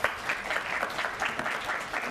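An audience at a business presentation bursts into steady applause, many hands clapping in a dense, even patter at moderate loudness throughout.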